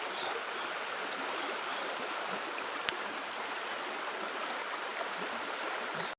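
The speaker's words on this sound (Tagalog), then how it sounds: "napakalakas pa po ng tubig" Loud, steady rush of a fast-flowing river swollen after a flood, a constant broadband roar with no pauses, close by.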